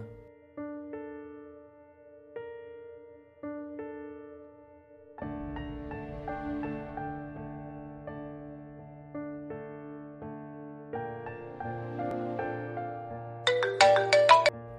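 A phone ringtone plays a melodic, repeating electronic tune for an incoming call, clear and steady at moderate level, growing fuller midway and ending in a brighter chiming flourish, with no talk over it.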